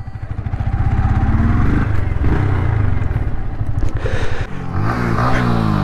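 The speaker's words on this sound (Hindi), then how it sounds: "अभी मैं रितेश का MT15 चला रहा हूँ।" A 2020 Yamaha MT15 motorcycle with an 18.4 BHP engine idles and revs at the start of an informal drag race, a loud close engine drone with rising revs, shifting pitch and some clatter, without talk.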